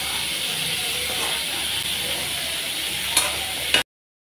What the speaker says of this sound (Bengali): চিংড়ি মাছগুলো এখন ভেজে নিচ্ছি।